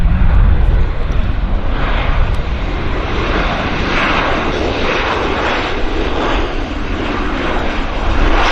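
An old-school regional jet without winglets lands and rolls onto a high-speed taxiway at Vancouver airport, a steady broadband engine roar filling the whole stretch, fairly loud and unbroken, with no talk.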